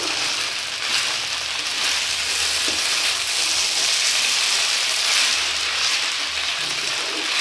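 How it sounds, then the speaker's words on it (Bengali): Steady, dense sizzling of chow mein frying in a pan, a continuous crackle that holds evenly throughout at close range with no talking. "ভালো করে ভেজে নিতে হবে।"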